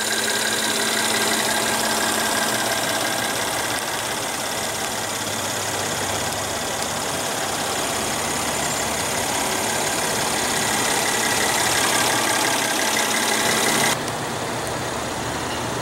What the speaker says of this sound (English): It's a very refined engine, very refined powertrain, and paired with the 7-speed automatic transmission